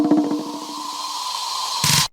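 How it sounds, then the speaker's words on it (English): An amapiano pre-drop drum fill opens with quick stuttering hits over a sustained tone that smears into a washy, fading texture, then a brief bright noisy burst closes it. "there this other drum fill"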